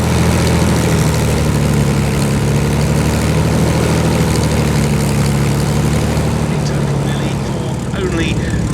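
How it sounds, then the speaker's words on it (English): At an airshow, a Mi-8 Hip helicopter lifts off after a touch-and-go landing with a loud, steady low engine and rotor drone that stays constant throughout, with no talk. "There's the hip lifting off again after that touch and go landing."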